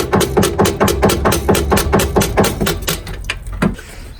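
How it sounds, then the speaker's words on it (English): A rubber mallet taps a bolt on a Toyota Auris during gearbox removal, about fourteen loud, evenly spaced close knocks in a steady rhythm that thins out near the end. "I actually put the other bolt in and I tapped it with a rubber mallet."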